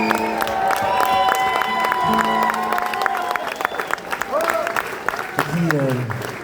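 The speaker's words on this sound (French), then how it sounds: "je vous demanderai d'applaudir très très fort toutes les personnes qui ont organisé cette soirée" A concert audience applauds loudly at an evening show in Toulouse, steady dense clapping with cheers and scattered voices mixed in, while tonal music or singing carries on through the crowd noise.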